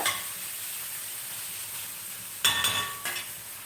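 Tempering spices frying in oil in a pan for a long bean curry, a soft continuous hiss followed by two brief bursts of sizzling and clinking near the end, close and fairly quiet.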